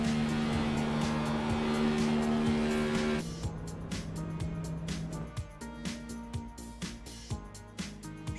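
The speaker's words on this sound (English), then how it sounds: "We should be seeing a couple burnouts here tonight." Simulated race car in iRacing at Phoenix, engine roaring loudly before cutting back to a lower idle-like rumble with repeated short bursts and tire squeal, no voices over it.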